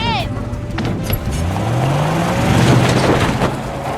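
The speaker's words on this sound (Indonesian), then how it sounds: "Lily datang dengan mobil menyelamatkan Ned dan membawanya pergi dari tempat karnaval tersebut" A car drives off during a carnival rescue scene in a movie, its engine rising in pitch as it accelerates away amid steady noise, with voices over it.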